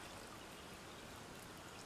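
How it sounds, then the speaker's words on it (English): Seltzer water pouring into a smoothie in a blender, a steady fizzing, splashing stream that holds at an even level for about two seconds, close and fairly quiet. "I'm going to add in the seltzer water."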